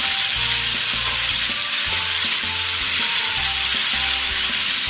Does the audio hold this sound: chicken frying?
yes